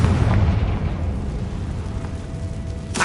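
Confringo explosion spell in the video game Hogwarts Legacy: a rumbling blast with a dense low roar that lingers and slowly settles, followed by a sharp crack near the end.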